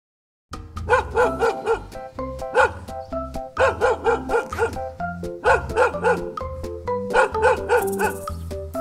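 A dog barks in a steady run of loud, close woofs and yips, grouped in quick bursts, over a bouncy music backing in a children's farm animal-sounds collection.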